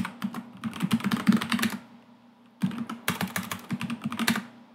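Rapid clicking keystrokes on a computer keyboard come in two close bursts separated by a short pause while a command is typed.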